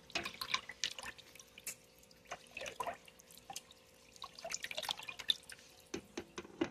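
A brine for smoking mullet fish being stirred, giving irregular close splashes, drips and soft clinks of liquid moving in a container, with no talking.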